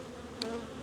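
Honeybees from an open hive with laying workers drone in a steady, faint hum, with one brief louder buzz as a bee passes near.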